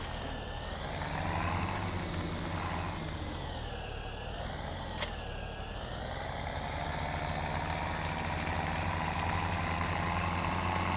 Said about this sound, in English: I don't know if this tractor will pull this one or not, but we'll give it a try.